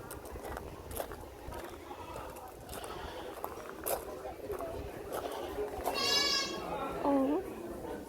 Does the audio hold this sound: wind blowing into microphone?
no